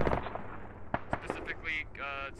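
Anti-aircraft gun fire in the military shooter Squad: a few sharp, sudden reports in quick succession, then hissing whooshes, heard mid-distance over steady battlefield rumble.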